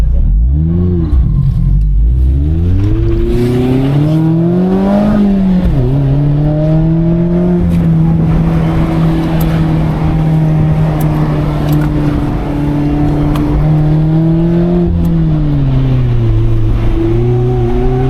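A Mazda Miata on an autocross course at full throttle, its engine note climbing loud and close through the gears in long rising sweeps with brief dips at shifts and a sustained high whine.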